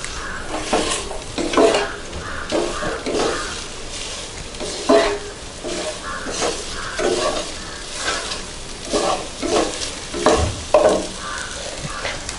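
Grated coconut is stirred into chicken frying in a pan for a Kerala-style coconut dry-fry roast. A steady sizzle runs underneath, with repeated scraping strokes of the spoon at an uneven rhythm, and no one speaks.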